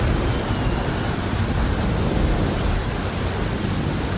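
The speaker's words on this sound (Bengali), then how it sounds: "নিমিষের মধ্যে শুরু হলো বৃষ্টি।" Storm rain from an audio drama pours as a dense, constant roar with a rumbling low end, heavy and unbroken throughout, with no speech over it.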